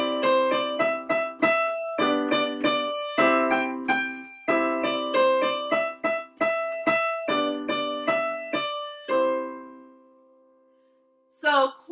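Piano plays Mary Had a Little Lamb harmonized with full chords in a steady rhythm, struck clearly and close, with the final chord ringing out before a brief rustle at the end.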